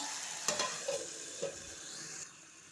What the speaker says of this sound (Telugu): టమాటాలు అయితే ఇంకా కొద్దిసేపు మగ్గనిద్దామండి టమాటా మెత్తబడాలి కదా